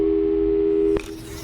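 Telephone busy signal in the Portal 2 video game: a loud, steady electronic tone held for about a second that cuts off abruptly, leaving faint background hum.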